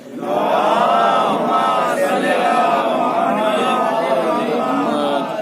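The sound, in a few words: congregation chanting salawat in response to call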